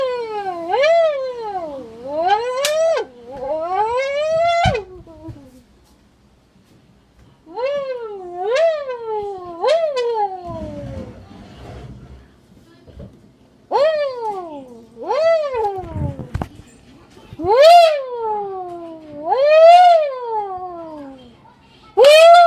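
A pop can rigged to imitate a Lamborghini engine gives a series of rising and falling wailing rev-like sweeps, in short bursts separated by pauses, fairly close and clear.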